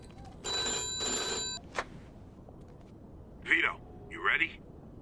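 A telephone rings in the video game Mafia 2, two long bursts of bright electronic ringing close by with a short gap between them, then a brief click and a little muffled talk afterward.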